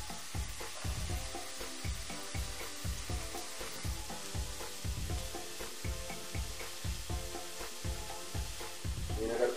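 Onion frying in a pan, a steady dense sizzle with soft rhythmic stirring scrapes throughout, moderately close and fairly quiet, with no talk over it.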